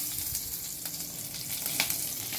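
Dried red chillies and fresh green chillies sizzle in hot oil with potato for a pomfret fish curry, a steady close crackle with brief sharper pops, alone with no talk.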